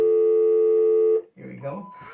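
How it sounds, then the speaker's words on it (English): A steady electronic phone tone holds for about a second, then cuts off and a voice begins talking. "My mom's phone's ringing."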